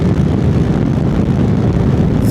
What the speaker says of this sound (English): Let's do a quick test run while the bike is stock.